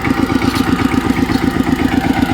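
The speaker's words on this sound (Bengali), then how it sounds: "পাওয়ার টিলার এখানে দাঁড় করানো আছে, স্টার্ট করাই রেখেছি।" A parked power tiller's engine idles in a steady, rapid chugging rhythm of even pulses, close and loud, with no talking.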